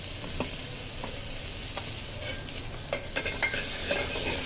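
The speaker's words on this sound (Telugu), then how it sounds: "ఉల్లిపాయలు మెత్తబడే వరకు కూడా వేయించుకోండి" Sliced onions and green chillies fry in a pan with a constant close sizzle, while a spoon stirs and scrapes in a few distinct knocks that grow busier toward the end, with no speech.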